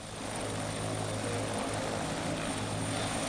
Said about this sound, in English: this is the first chance now the helicopter's been able to come up in this area to take them out